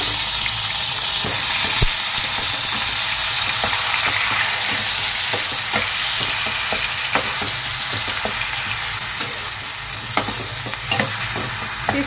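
Onion, ginger and garlic paste frying in hot oil with whole cumin and a bay leaf, a loud, dense, continuous sizzle with occasional stirring knocks close by.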